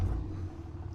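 A truck fitted with a 5-inch exhaust kit idles, heard from inside the cab as a low, steady, muffled rumble at moderate volume.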